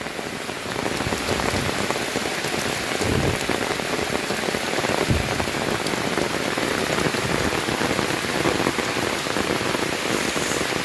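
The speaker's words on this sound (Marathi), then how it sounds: "तसंच पावसाने जोर धरलेला आहे." Heavy monsoon downpour in the Konkan countryside near Rajapur: a steady, dense roar of rain hammering surfaces and water, loud and close, unbroken for the whole stretch with no voices.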